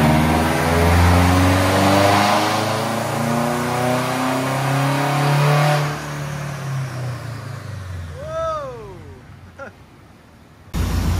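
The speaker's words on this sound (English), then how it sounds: "So this will be the first pull you hear with the new turbo." A car engine with a new turbocharger revs up hard and loud on a dyno for several seconds with a deep, rising roar, then drops off as the pull ends.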